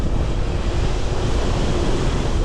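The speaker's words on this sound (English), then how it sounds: "This is so windy, man." Strong wind roars steadily against the microphone near a railway bridge on the HS2 route between Quainton and Calvert, a dense, unbroken rushing noise with no voices.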